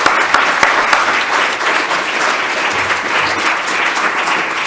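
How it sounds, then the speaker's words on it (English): Audience at a medical forum gives sustained applause, a loud, continuous wash of many hands clapping from start to finish, with a few sharper claps at the very beginning. "give a round of applause to Alan Woodward and the Mass Medical Society"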